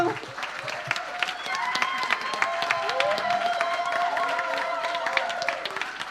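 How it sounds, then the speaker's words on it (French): Audience applause for children after a Christmas show, with dense clapping throughout and cheering and voices mixed in over the crowd. "Je vous demande d'applaudir encore de nouveau tous ces enfants."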